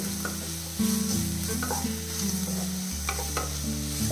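Onions for a Mughlai chicken handi curry being sautéed until brown, sizzling loudly and steadily in the pan while a utensil stirs and scrapes through them.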